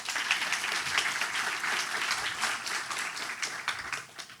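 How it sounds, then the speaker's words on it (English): Sustained audience applause at the World Inequality Conference, a dense even wash of many hands clapping throughout, steady and fairly loud with no talk over it. "Also, please a round of applause."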